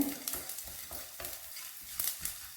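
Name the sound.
spices roasting and stirred in a pan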